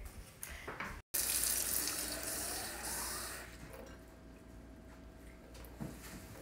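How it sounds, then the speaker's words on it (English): Water runs steadily from a tap, filling a container with a rising hollow gurgle after a brief cut, fairly close and continuous. "you fill it up with water and then you shake it"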